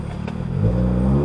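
A 2019 Honda Accord Sport 1.5T with a PRL downpipe, front pipe and resonator changes, driven in normal mode, gives a short, close exhaust drone that rises slightly in pitch partway through.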